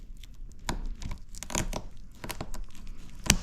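Product packaging being cut open during an unboxing, close and fairly quiet, with irregular tearing, cutting and crinkling bursts and a sharper snap near the end.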